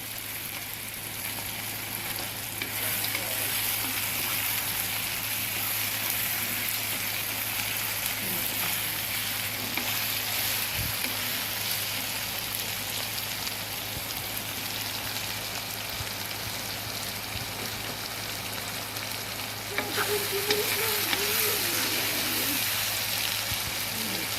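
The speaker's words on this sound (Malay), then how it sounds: "Saya goreng tomato ni sampai dia sebati." Steady broadband sizzling of tomatoes frying in a pan for a beef curry, continuous and even throughout, with a faint clatter near the end.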